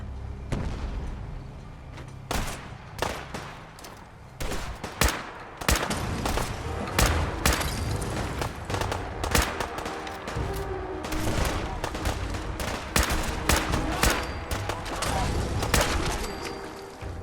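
Heavy battle gunfire in Fallout 4: dense, loud bursts of rapid shots and booming blasts crowd together without a break, with faint voices buried under the barrage.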